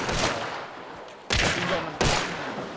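Gunshots striking an enemy in the video game Hunt: Showdown, fired from a rapid-firing pistol: three sharp, close cracks, each followed by a short rumbling tail.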